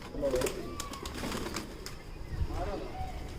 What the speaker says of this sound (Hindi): ये कबूतर है जी, ये नर है